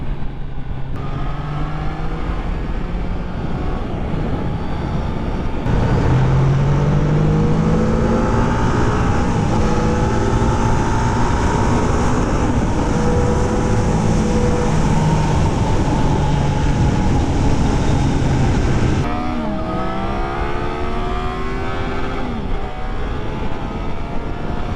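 A Triumph Trident 660 motorcycle, A2 version, rising through the revs with sweeping engine pitch climbing under load, loud and close, then shifting and pulling again toward the end.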